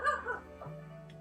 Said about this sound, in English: Sorry, y'all, that's the dog.